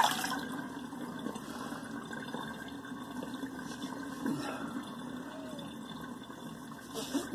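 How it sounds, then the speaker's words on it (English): Water drains from a sink after a shave soap test. It makes a soft, steady gurgling flow that runs throughout at a moderate, close-up level. "let's let the water out"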